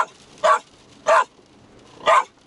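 A dog gives three short, separate loud barks or yips outdoors on a hike near a waterfall in Scotland, spaced apart with quiet between them.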